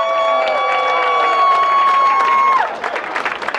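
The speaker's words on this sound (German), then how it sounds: "Nochmal ein ganz, ganz kräftiger Applaus" Audience applause at a live outdoor event, with clapping and crowd noise swelling under sustained musical tones, then breaking into scattered loud claps as the music stops.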